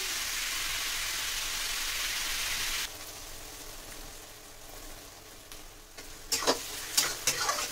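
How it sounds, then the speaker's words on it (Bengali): Onions fry in oil for a large batch of chicken biryani, a steady close sizzle that drops in level partway through, followed by a few scraping stirs near the end. "পেঁয়াজটা প্রায় ফ্রাই হয়ে এসেছে"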